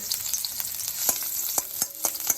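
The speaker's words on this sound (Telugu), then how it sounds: "ఇంకా కొంచెం ఆయిల్ పోసుకొని ఇప్పుడు గార్లిక్ వేసుకుందాము. ఇక ఫ్రై కానిద్దాం." Garlic sizzles steadily in hot oil in a pan while egg fried rice is being made, a continuous close frying hiss broken by a few sharper crackles and stirring scrapes.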